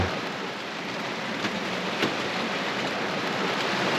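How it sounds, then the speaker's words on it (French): Steady rain hisses close by as a dense, even wash of drops drums on a surface, with a couple of slightly louder splashes. "Il pleut!"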